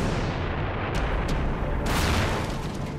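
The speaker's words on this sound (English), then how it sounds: "A catastrophic explosion at Chernobyl nuclear power station." Catastrophic explosion at the Chernobyl nuclear power station's reactor number 4 in April 1986, heard as a loud, continuous roaring rumble broken by a few sharp bursts.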